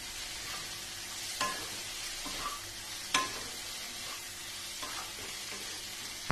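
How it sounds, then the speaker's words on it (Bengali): Cauliflower curry sautés in a pan after Kashmiri chili powder goes in, with a soft steady sizzle under occasional scraping knocks from a stirring spoon, fairly quiet and close. "দিয়ে এটাকে খুব ভালো করে কষবো"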